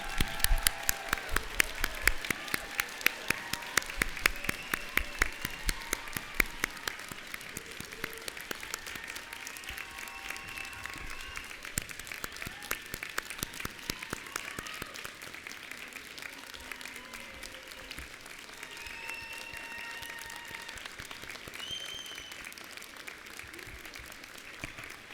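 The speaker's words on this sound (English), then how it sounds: "let's have a big round of applause for our new grads" Steady applause from a crowd fills the room at a nursing pinning ceremony, sharp individual claps standing out at first before settling into a continuous, moderate patter.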